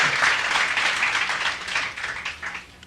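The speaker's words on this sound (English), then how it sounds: "Kindly give yourselves a round of an applause for being here." Applause from an audience at a Garifuna music and dance celebration, a steady wash of many hands clapping that gradually fades.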